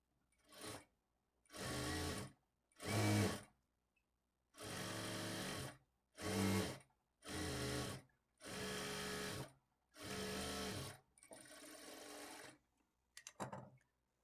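A sewing machine stitches a blouse seam with a 1/4 inch fold in about nine separate bursts, each a loud whirring run of a second or so, with short quiet pauses between them.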